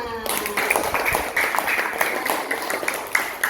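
A classroom of students claps together after a lesson, a burst of quick mixed hand claps that runs through the whole stretch with voices mixed in.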